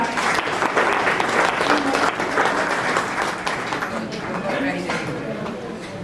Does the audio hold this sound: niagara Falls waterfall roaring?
no